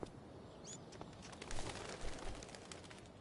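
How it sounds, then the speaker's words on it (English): A bird takes flight in the video game Life Is Strange: Before the Storm, a few quick bursts of wing flapping over a soft ambient bed, with a faint chirp early on and no talking. "One small flight for this bird, one giant leap backward for Chloe Price"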